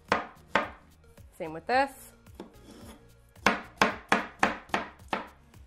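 A knife chops pineapple into chunks on a cutting board, about ten sharp, close, rhythmic cuts with a pause midway, and a brief voice speaks in the gap.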